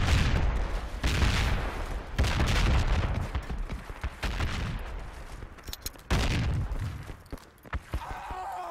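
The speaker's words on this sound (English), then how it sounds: "now they're shooting" Gunfire in the military shooter Project Reality crackles in repeated bursts and single heavy shots, some close and booming, others more distant, with a few short lulls and a player voice briefly heard.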